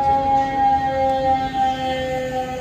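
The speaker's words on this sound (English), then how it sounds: "No, that's an ambulance." Ambulance siren passing on a street, a sustained wailing tone that holds steady and loud over a low rumble of traffic, with no voices.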